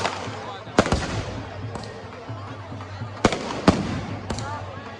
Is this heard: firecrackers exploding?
yes